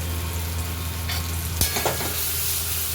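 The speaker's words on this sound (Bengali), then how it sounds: "দিয়ে ভালো করে নাড়াচাড়া করে মশলাগুলো মিশিয়ে নেব।" Fish head and cabbage with turmeric and chilli powder sizzle steadily in a pan, close by, while a spoon stirs through with a few scraping and knocking strokes.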